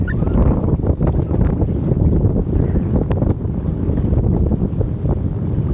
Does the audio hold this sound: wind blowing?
yes